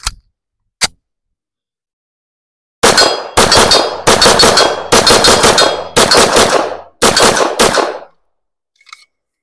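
A CZ Shadow 2 optics-ready pistol fires at a range, a couple of isolated shots followed by a rapid string of about eight loud, sharp reports with short ringing tails, then a faint tap.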